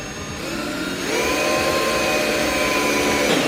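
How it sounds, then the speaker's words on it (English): An electric drill with a staggered step bit spins up and bores into metal on a 2020 Toyota Tacoma, a loud steady whine rising in pitch after a second, no speech. "Then I'm gonna get my drill, and we're gonna drill an 8-inch hole."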